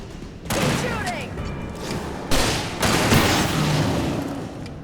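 Gunfire in Alan Wake Remastered erupts in loud, dense bursts, booming shots overlapping in heavy volleys that surge again midway and keep pounding to the end.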